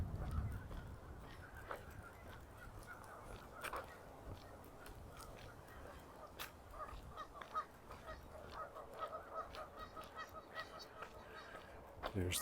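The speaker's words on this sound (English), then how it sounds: "Just listening to the geese in the distance." Geese honk in the distance beside Wascana Lake in Regina on a chilly September walk, their calls repeating irregularly over a steady outdoor background hum.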